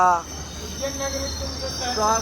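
A train's wheels squeal loudly against the rails close by as it arrives at Ujjain station, a high screeching tone over a low rumble, rising again at the end.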